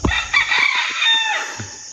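A rooster crows loudly and close by, a long strained call with a few clucks mixed in, no voices.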